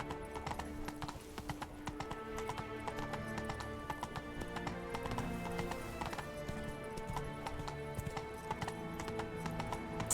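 Roach, a horse in The Witcher 3, gallops with steady rapid clip-clop hoofbeats, a brief whinny and game music underneath, moderately loud and continuous for the whole stretch.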